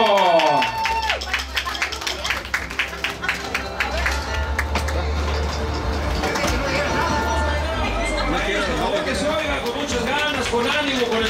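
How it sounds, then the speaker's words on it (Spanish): Wedding crowd cheering and clapping for the groom's arrival, loud and sustained over festive music, with voices chattering throughout. "¡Un aplauso para el novio!"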